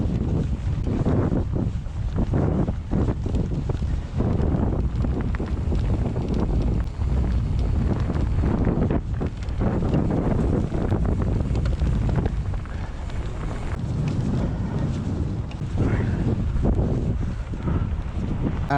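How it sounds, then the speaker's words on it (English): Strong, steady wind buffeting the microphone in a continuous roar with gusty surges throughout, loud and close, no voices. "It's quite windy."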